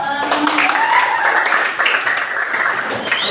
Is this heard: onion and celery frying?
no